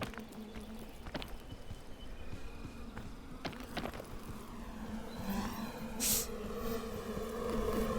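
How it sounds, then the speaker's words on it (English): Bees buzzing in the video game PEAK, a steady insect drone with a few clicking footsteps over a low background hum, growing slightly louder toward the end. "Oh, I'm covered in bees."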